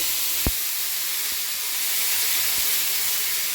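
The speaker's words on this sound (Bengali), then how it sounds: "এবার দিয়ে দেবো পেঁয়াজগুলো" Onions hit hot oil with cumin, dried red chilli and bay leaf, giving a loud, continuous hissing sizzle with a few faint knocks and no talking.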